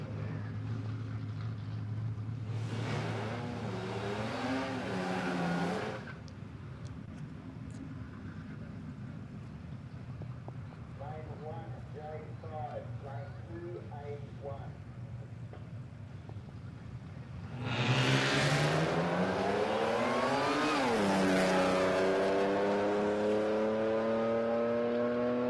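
Holden VN Commodore making a drag racing run at Palmyra Raceway: engine bursts rise and fall in pitch through the gears, loud at first, fading, then a louder roar later, with other engines faint in the background between passes.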